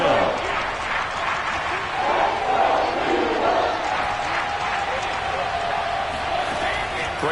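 A football stadium crowd at a Buccaneers vs Eagles game gives a continuous, swelling roar close up. An announcer talks over it.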